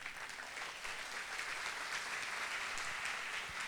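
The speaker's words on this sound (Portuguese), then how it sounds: "vamos aplaudir o Senhor" A congregation at Igreja da Graça claps together in a soft, even wash of applause that holds steady without a break, faint and somewhat distant.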